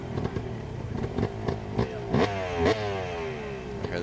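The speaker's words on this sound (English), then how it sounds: "Hear the bike revving up." A Harley-Davidson hill climb motorcycle revs up with repeated sharp throttle blips, then rises into a sustained rising engine roar at moderate distance.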